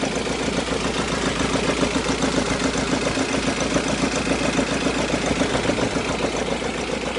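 A 2003 Kia Carens engine idles steadily after a starter motor repair, a loud, even mechanical hum with a fine rhythmic pulse running unbroken throughout, no voices.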